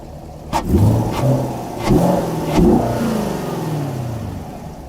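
A 2020 Chevy Camaro SS Hendrick Motorsports Edition V8 engine revs three times in quick bursts, each rising sharply then falling back to a rough idle, loud and close with no talking, exhaust louder than intake.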